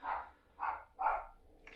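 Lollipop, a small dog, barks three times at a front window at a dog passing the house, fairly faint and a short distance away, with a brief yip starting at the end.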